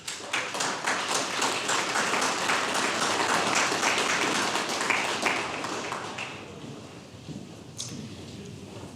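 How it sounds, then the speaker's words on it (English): Audience applause for a Color Guard at an outdoor anniversary commemoration, dense clapping that carries on for about six seconds, then fades to scattered claps and quiet. "Let's have a round of applause for the SAR Color Guard."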